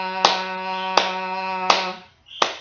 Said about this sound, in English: You heard me clap 4 times while I sang, and then I stopped.